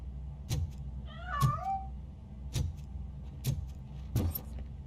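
A cat in the video game RoboCop: Rogue City meows a few times, close and clear, amid a steady run of sharp, evenly spaced thuds.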